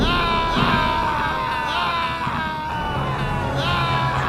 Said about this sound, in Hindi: आईने से परावर्तित हुई रोशनी और खुद की परछाई को देखकर छायाद्रुम चीख उठता है